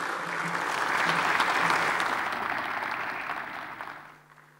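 An audience applauds a panel on photography, a broad wash of many hands clapping that swells, holds, then fades out toward the end.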